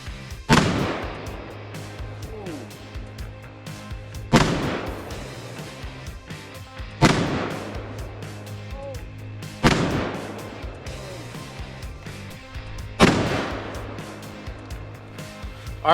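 Five heavy booming shots from a .500 Magnum revolver fired at a cast iron Peerless 2300 transmission, spaced about three seconds apart, each with a sharp crack and a long rolling echo outdoors.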